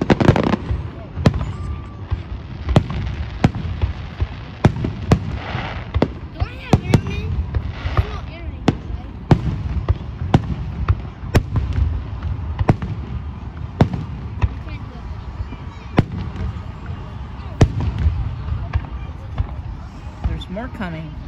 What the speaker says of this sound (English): Those fireworks look bussin',